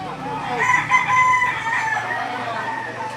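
A rooster crows once, loud and close, at a chicken market, with a long wavering call that carries over faint background murmur.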